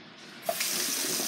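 Cold tap water runs steadily over aquarium gravel for a small three-gallon fish tank, starting with a quiet trickle and then opening into a loud, continuous close-up rush of water.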